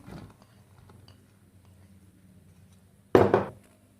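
Chopped potatoes clatter into a bowl while crispy pakoras are being prepared, a short, loud, close burst of knocking and rattling near the end that follows faint kitchen sounds.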